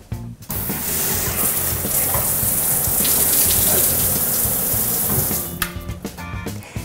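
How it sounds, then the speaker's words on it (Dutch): Water pours straight down from the many jets of a large rain shower head in a bathroom showroom, a loud, continuous hissing spray that runs steadily before breaking up near the end. "Het water valt uit de vele jets recht naar beneden voor een echt regeneffect."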